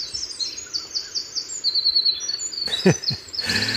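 A bird sings a series of high, quick chirping phrases, close and clear, joined near the end by a few brief lower calls.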